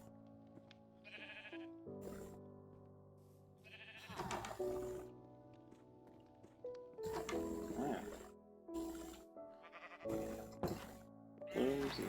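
Minecraft sheep bleat in a village, several wavering cries spread through the clip, fairly close and loud, with a voice speaking briefly among them.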